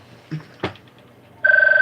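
A telephone rings near the end, a loud trilling electronic tone pulsing rapidly, after a couple of short knocks or clicks in otherwise quiet surroundings.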